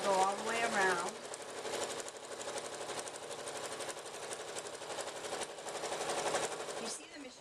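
Sewing machine stitching binding around an iPad case with a strap, a fast steady mechanical chatter running for several seconds at close range, with a voice speaking briefly at the start.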